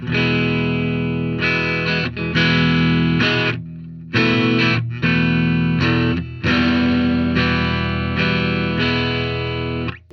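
Clean electric guitar tones played through a DOD American Metal pedal setup, a series of sustained strummed chords and notes ringing out loud and close, separated by short pauses, with no talking.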